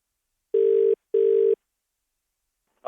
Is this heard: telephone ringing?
yes